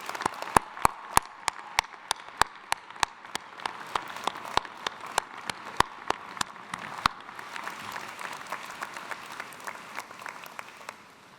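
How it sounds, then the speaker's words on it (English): Audience applause at a college commencement ceremony: a broad, even wash of many people clapping, with one loud pair of hands nearby striking a steady beat over it for several seconds before the crowd carries on alone. "warm applause?"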